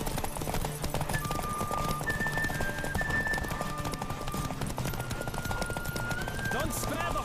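A horse gallops in The Witcher 3, with steady rapid hoofbeats under a game music score and background ambience, and a brief whinny-like cry near the end.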